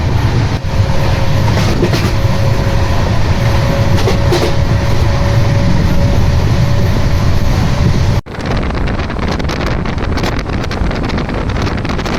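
The Puri Howrah Shatabdi Express, train 12278, runs at speed with a continuous rumbling rail roar and wind buffeting, a faint tonal whine partway through, then a sudden shift to a harsher, clattering sound as it carries on.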